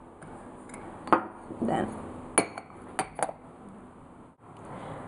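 A teaspoon clinks against breakfast dishes in a run of bright metallic taps and chinks, some close together, alongside brief speech.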